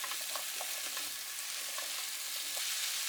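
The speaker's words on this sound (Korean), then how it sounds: "센 불로 켜고 냄비가 달궈지지 않은 상태에서 무, 들기름 2큰술 넣고 1분 30초 볶습니다." Diced radish sizzles in perilla oil in a pot over high heat, a steady bright frying hiss with occasional stirring scrapes, close and continuous, no voices.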